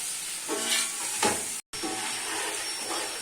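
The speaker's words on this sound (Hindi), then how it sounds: "मैं मसाला भून लूँ, ये ड्राई वाला मसाला भूनना है थोड़ा सा" Dry spices roast in a hot pan, giving a soft, steady hiss with a few brief louder scrapes of stirring and a momentary dropout midway, close and without voices.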